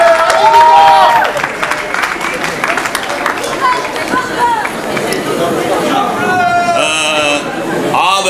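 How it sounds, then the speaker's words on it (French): Crowd at a French rap battle clash applauds as the first contestant is called up, clapping and cheering mixed with loud chatter and a voice talking over the noise. "Applaudissez-le bien fort."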